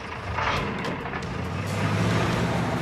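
A heavy truck engine rumbles steadily, growing a little louder as it approaches, with low mechanical drone and some hiss.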